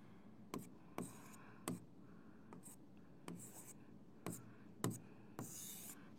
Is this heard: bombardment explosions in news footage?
no